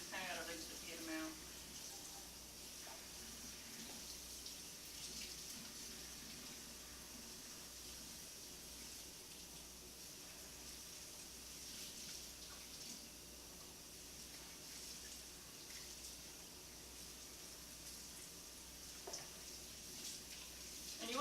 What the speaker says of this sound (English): you want to rinse them until this foam goes away